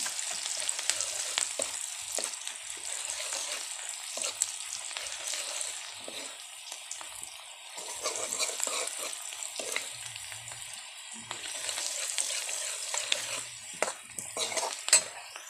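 Steady sizzling of jackfruit frying in a pan, with occasional scrapes and clinks of a utensil stirring, continuous and close throughout.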